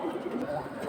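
A male pigeon coos softly in a short, low burbling phrase, close by and fairly quiet, with faint background noise.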